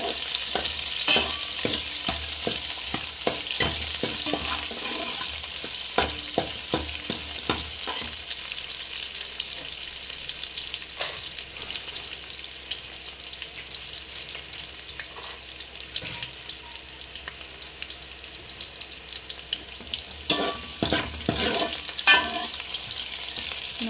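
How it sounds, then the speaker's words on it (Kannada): Onion fries with cumin in a pan while being stirred, giving a steady close sizzle broken by repeated scraping and tapping of the spoon, with no talking. "ಒಂದು ಈರುಳ್ಳಿ, ಇದನ್ನು ಫ್ರೈ ಮಾಡ್ಕೋಬೇಕು."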